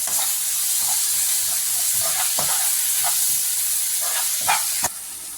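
Tomatoes sautéing in a pan for Chettinad chicken gravy, a steady loud hiss of frying with soft scrapes and taps of a stirring spoon, close up, ending abruptly, no talking.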